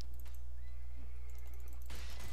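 A horse in the Mount & Blade Warband video game gives a faint, drawn-out whinny amid the noise of a battle, with a steady low hum and a sudden burst of clatter near the end.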